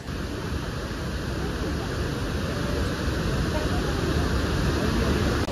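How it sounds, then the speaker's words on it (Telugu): Chitrakote Waterfalls in Chhattisgarh, India, roars continuously during the monsoon, a dense unbroken rush of falling water that stays loud and even throughout, with no other sounds standing out. "the India Niagara Chitrakoot water falls"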